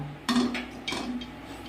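A metal kadai set down on a gas stove burner in a home kitchen gives a couple of close clanks about a third of a second apart, then a faint lingering rattle.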